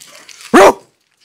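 A man imitates a dog with a single loud, sharp bark, short and close, followed by silence.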